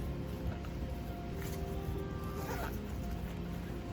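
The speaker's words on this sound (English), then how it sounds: "You have a back zipper right here" A short purse zipper being pulled open, a soft raspy slide close by, heard alone over a steady low background hum.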